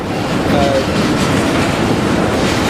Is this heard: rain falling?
no